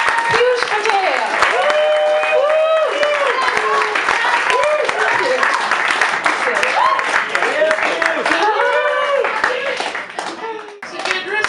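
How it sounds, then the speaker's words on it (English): Audience applause at a local artists' showcase event as a DJ and sound technician heads to the stage, steady dense clapping mixed with loud cheering and crowd voices, sustained throughout before tapering slightly at the end. "could we have a round of applause for our in-house DJ and sound technician, Piyush Patel"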